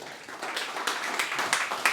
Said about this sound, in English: Round of applause, Mark Ackers